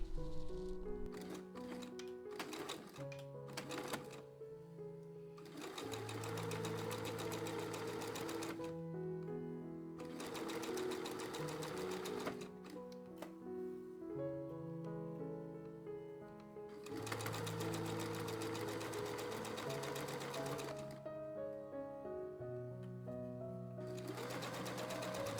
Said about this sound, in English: now we stitch the pockets in place on the two folded undersides with a simple straight stitch